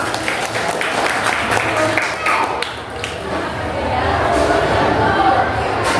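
Students in a classroom clap for a classmate, a brief patter of hand claps mixed with chatter and voices, fairly close and moderately loud, fading and returning unevenly.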